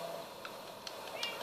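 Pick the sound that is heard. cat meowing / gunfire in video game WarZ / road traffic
cat meowing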